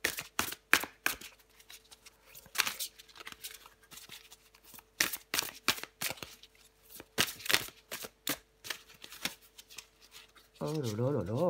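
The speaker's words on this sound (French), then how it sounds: "je prends encore une carte pour vous les Gémeaux" Tarot cards being shuffled and drawn by hand, a quick run of crisp riffling flicks and slaps that come in bursts, close and clear, with a short stretch of a voice at the end.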